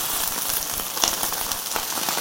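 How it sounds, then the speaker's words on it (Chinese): Hairtail fish fry in hot oil in a pan, giving a continuous bright sizzle with scattered crackles and small pops, close and moderately loud. "现在带鱼下面煎黄了哈，我们可以翻个面"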